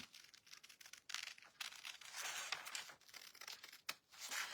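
Paper being cut along the bottom edge of a decoupage Easter bunny board with scissors, giving close, crisp snipping and crinkling in a steady run of short strokes with no talk.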